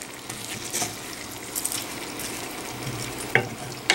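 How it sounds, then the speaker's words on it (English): Diced potatoes with Anaheim chili and cayenne peppers fry in a pan, a steady low sizzle broken by a few stirring scrapes and clinks, heard close with no talking. "along with the Anaheim chili pepper and the cayenne pepper, cooking up my fried potatoes."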